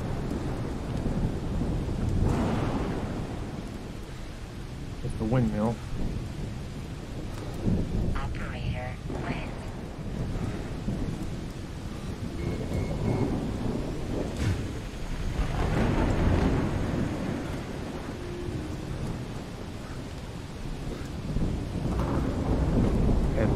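Rumbling thunder rolls over steady rain and some wind in the space survival game The Solus Project, with several deep swells and crackles across the stretch and brief spoken words from the game mixed in.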